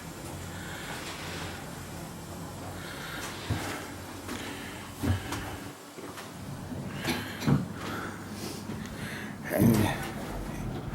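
A bathroom mirror cabinet door in a Blackpool hotel room opening and closing, a few soft clunks and a sliding knock spread over several seconds, close by, with a person talking briefly.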